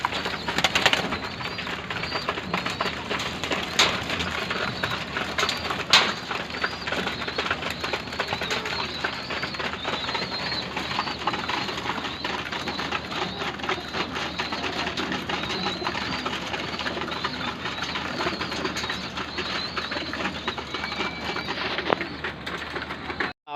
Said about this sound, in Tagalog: Ayan mga gutom na mga kalapatids.